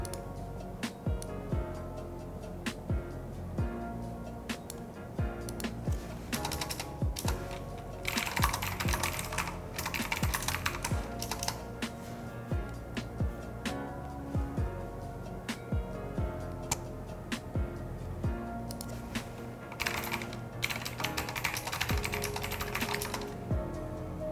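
Continuous typing on a computer keyboard, fast irregular clicking and clacking heard close up for the whole stretch, with slightly denser bursts partway through and no talking.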